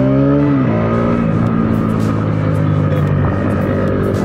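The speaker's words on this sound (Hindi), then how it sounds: "ये जा रही यामाहा आरएक्स।" A loud Yamaha RX 100cc motorcycle engine drones close by, its pitch dropping as it passes, with a steady throaty hum throughout.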